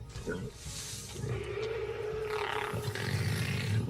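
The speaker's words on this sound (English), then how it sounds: "For the raptors, it's a trumpet-sounding roll call." Loud, layered raptor dinosaur roars and brassy bellows overlap continuously, a harsh trumpeting roll call rising and falling over a rumbling low end.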